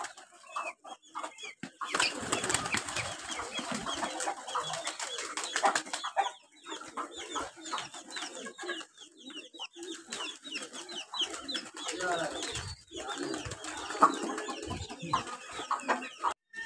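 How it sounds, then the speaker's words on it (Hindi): Racing pigeons coo and rustle in a busy farm coop, with clucking fowl mixed in and occasional wing flaps, steady and close throughout. "ये रेसर कबूतर है यहाँ का।"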